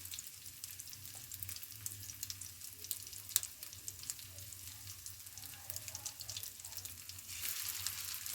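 Fish tikki patties fry in oil over a medium gas flame, giving a continuous close sizzle with fine crackling and occasional sharper pops throughout.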